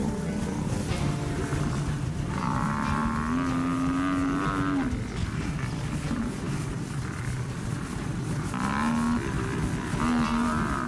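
A herd of buffalo with lions trying to split it apart, heard as three drawn-out, low lowing calls rising over a constant rumbling background.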